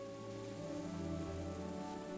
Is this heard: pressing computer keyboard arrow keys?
no